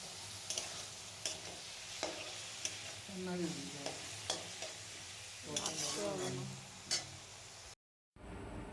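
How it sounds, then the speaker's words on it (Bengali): Chopped onion and marinated chicken fry in a wok with a soft continuous sizzle, punctuated by sharp taps and scrapes of a spatula stirring, fairly quiet overall. "আমি কড়াইতে ফার্স্টে দিয়েছিলাম পেঁয়াজ কুচি, আর পেঁয়াজ কুচি দেওয়ার পর ওই ম্যারিনেট করা চিকেনটা দিয়ে দিয়েছি।"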